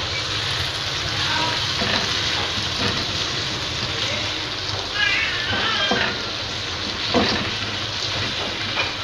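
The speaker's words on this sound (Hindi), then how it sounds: "इसमें अब फ्राई की हुई चिकन डालेंगे" Fried chicken lands in a hot pan for Chicken Manchurian, bringing a steady, loud, close sizzle that hisses throughout, with a few brief high squealing tones rising over it.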